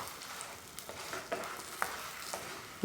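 A sesame and jaggery paratha fries in desi ghee on a hot pan, giving a steady close sizzle with small crackling pops throughout and a scrape near the end.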